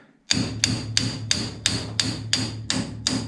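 Steel hammer striking a soft, unhardened punch on a car engine block while working on a 1954 Henry J gasser with a 327 engine, eight evenly spaced, ringing metallic blows, close and alone.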